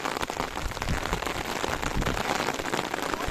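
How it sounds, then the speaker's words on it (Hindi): Steady rain pours down at a hillside temple site with carved stone statues in Sirmaur, Himachal Pradesh, a dense, continuous hiss of drops close by with no voices. "यहाँ पे बारिश हो रही है"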